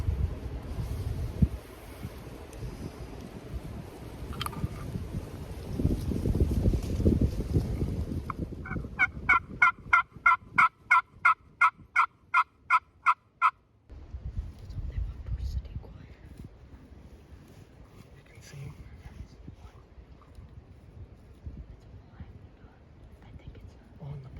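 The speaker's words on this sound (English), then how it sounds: "It sounded like a Jake gobble. It's definitely a gobble though, right over the hill." A wild turkey, likely a young jake, gobbles over a hill during a Missouri spring youth hunt, a rapid train of about ten sharp pulsing notes lasting several seconds, moderately distant, with wind noise and low voices before and after.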